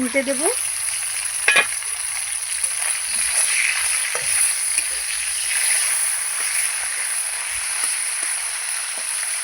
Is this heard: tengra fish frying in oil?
yes